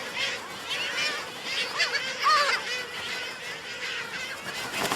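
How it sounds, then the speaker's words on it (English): Seabirds at their Raza Island breeding colony fill the air with a dense, continuous chorus of honking, overlapping calls, steady and fairly loud throughout with no clear gaps. "the birds that return each year to Raza Island"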